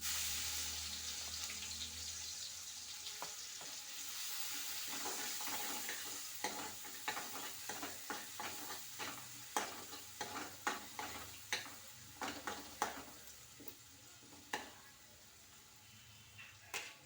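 Vegetables sizzling in hot oil make a soft, steady hiss at first, then a run of quick, sharp scraping clicks as a spoon stirs them in the pan, close by with no talk.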